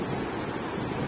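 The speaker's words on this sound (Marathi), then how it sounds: "इकडे लाटा येत आहे." Sea waves roll in at Dahanu beach, a dense, steady roar of surf mixed with wind buffeting the microphone.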